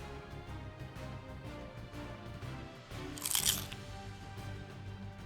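A bite into a crunchy panko-breaded homemade onion ring gives one sharp, brittle crunch close to the ear, set against a quiet room with low background hum.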